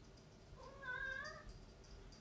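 A single cat meows once, a faint drawn-out call rising and falling over a low background hiss, with no voices.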